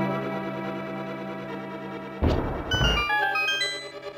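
A bomb goes off in the Squirrelman fan-hack video game, a single sharp electronic burst partway through that cuts into a steady chiptune background, followed by a brief bright jingle.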